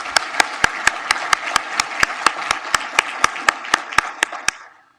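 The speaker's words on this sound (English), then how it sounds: "Please join me in applauding the EDC Board of Directors." Steady, evenly timed claps from an audience at a village State of the Village event ring out in a crisp rhythm for several seconds, then fade out.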